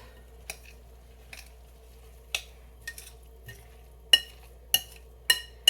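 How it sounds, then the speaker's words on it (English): A spoon scrapes and clinks against a bowl while a meatloaf mixture with A1 sauce is stirred, giving sparse, irregular knocks that grow sharper and more frequent toward the end over a quiet background. "And then I'm going to stir this up."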